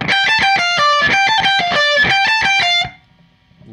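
Distorted electric guitar plays a fast, rhythmic bar of a riff with alternate-picked melodic notes, loud and alone, cutting off sharply before a quiet tail.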